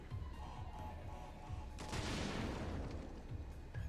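Crates detonating in Crash Bandicoot N. Sane Trilogy set off a loud burst of crackling blasts that swells midway and then tails off, over rhythmic game music.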